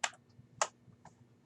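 Sparse computer-keyboard typing produces a few isolated, faint key clicks over quiet background hum.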